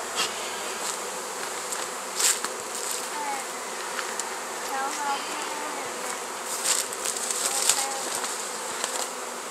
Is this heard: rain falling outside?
no